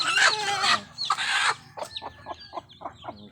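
Farmyard chickens cluck near the microphone, with a burst of loud squawking calls followed by a run of short, rhythmic clucks.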